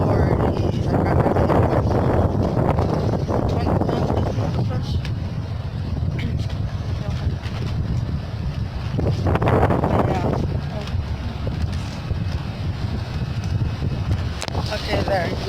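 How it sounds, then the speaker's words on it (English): Strong wind buffets the microphone at a beach, a steady loud rumble with gusts that swell and ease throughout, while a person talks over it. "I'm sorry, like, it's so windy."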